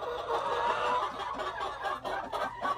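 Chickens in a backyard coop cluck continuously and fairly close, a busy overlapping flock chatter with no talking over it.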